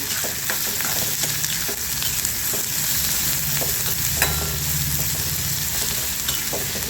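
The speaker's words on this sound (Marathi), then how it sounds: "आता छान कांदा परतून घ्यायचा आहे" Onion sautéing in a pan with garlic for spicy onion-tomato chutney, a loud, dense and continuous sizzle with scattered small crackles and spatula scrapes throughout, no voices.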